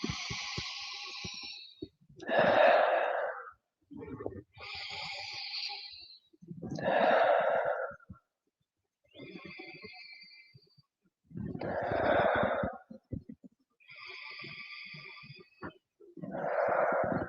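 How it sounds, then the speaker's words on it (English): Slow, deep breaths during a yin yoga stretch, with long audible inhales and exhales trading off steadily and close to the ear, each breath lasting a second or two and separated by short quiet gaps. "let's take some deep breaths here"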